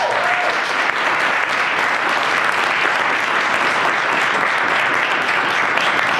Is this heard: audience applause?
yes